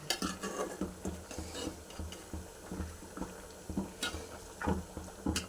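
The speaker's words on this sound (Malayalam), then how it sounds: "കറി ഇവിടെ തുറന്ന് നോക്കാം ഒന്ന് ഇളക്കി കൊടുക്കാം" Curry being stirred in a pot at home, the spoon scraping and clinking against the metal in a steady repeated rhythm, close and moderately loud with no talking.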